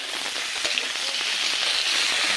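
Vegetables added to a pan of frying spice tempering hiss loudly and continuously, a close, dense sizzle with small crackles and no voices.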